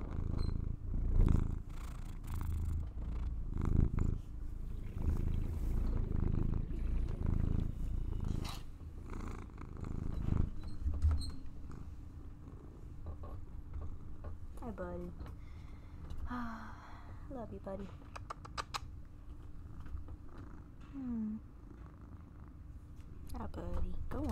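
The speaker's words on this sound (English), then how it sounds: "Do you hear my cat?" A pet cat purrs close to the microphone as a steady low rumble, running under a person's voice and quiet game sounds.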